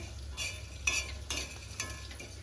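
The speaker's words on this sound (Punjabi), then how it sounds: "ਇਹਨੂੰ ਅਸੀਂ ਚਮਚੇ ਨਾਲ ਹਿਲਾ ਲਾਂਗੇ ਥੋੜੀ ਇਹਨਾਂ ਦੀ ਨਮੀ ਦੂਰ ਕਰ ਲਾਂਗੇ" A spoon stirs cauliflower, carrot and turnip in hot oil, scraping the pan in a few distinct strokes over a low, steady sizzle, close by with no talking.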